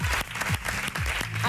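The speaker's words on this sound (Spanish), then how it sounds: "Un aplauso para vos." A television talk show's studio audience applauds in a brief burst, with voices talking prominently over the clapping.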